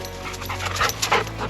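A dog pants on a hiking trail near Little Hellgate Falls in Pittsburg, New Hampshire, giving quick, steady, close breaths that run alone throughout the short stretch.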